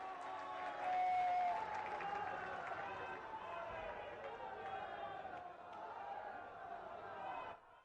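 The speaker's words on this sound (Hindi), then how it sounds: "सभी लोग खड़े होकर जोरदार तालियों से उनका स्वागत करें" Audience at the Rudraksh Convention Centre in Varanasi applauds to welcome the Prime Minister, a dense, sustained crowd roar of clapping and cheering that swells early, holds steady for several seconds, then cuts off abruptly.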